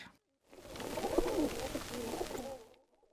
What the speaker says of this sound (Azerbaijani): O olmasın bu olsunun açılışındakı göyərçinlər